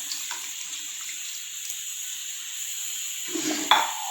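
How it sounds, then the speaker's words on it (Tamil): Tamarind water pours into a pot of sambar with cooked vegetables, a soft steady trickle that ends in a brief louder splash. "புளி தண்ணி சேர்த்துக்கலாம்."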